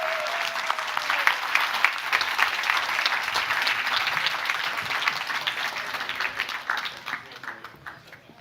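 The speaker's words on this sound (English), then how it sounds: "Huge round of applause for Rasmus and Anselmi." Sustained audience applause at a Nordic Happiness Summit, dense and steady across the room before tapering toward the end, with no voices over it.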